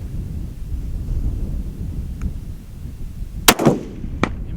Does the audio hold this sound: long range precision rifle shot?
yes